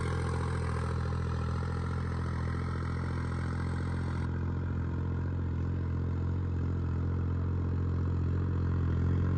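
A New Holland 5620 tractor engine runs steadily at close range, a loud, even diesel rumble with a clattering mechanical texture and no breaks, alone without talk.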